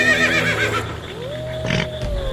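A horse whinnies loudly and nearby, its neigh rising and falling, followed by a brief snort and some shuffling.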